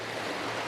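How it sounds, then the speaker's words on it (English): Water runs over cracked rocks in a stream, making a steady, close, broadband rush that stays even and unbroken throughout. "with the water flowing over it at this specific area"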